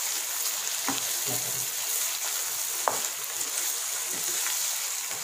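Chicken fries in oil with a soft, continuous sizzling hiss and a few faint pops and clicks, steady and moderately quiet throughout.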